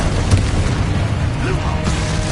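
Explosion spells cast in the video game Hogwarts Legacy, loud booming blasts with a heavy low rumble in quick succession, alongside brief game sounds.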